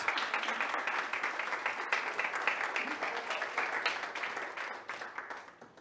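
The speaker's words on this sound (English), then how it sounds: "a big round of applause for our two organizers and co-founders, Marios and Agisilaos" Sustained audience applause for the two organizers and co-founders at the opening of the 6th Athens Women's Football Summit, a dense steady clapping that carries on for several seconds before tapering off near the end.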